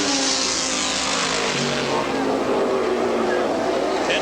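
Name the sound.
race cars on the straightaway, IMSA Camel GT race at Lime Rock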